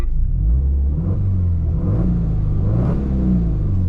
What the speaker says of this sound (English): This one here has got more of an aggressive sounding exhaust